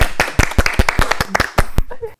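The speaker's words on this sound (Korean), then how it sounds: "마지막으로 박수 한번더 치고" Live audience clapping together at a Seoul Philharmonic online talk with a conductor, a dense burst of sharp claps mixed with voices, ending abruptly.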